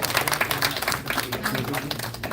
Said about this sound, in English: Everyone, let's give her a round of